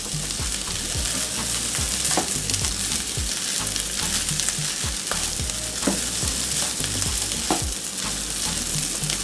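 Shrimp fried rice sizzles loudly and steadily in a pan over a high flame, with repeated scraping strokes of stirring running through the constant frying hiss.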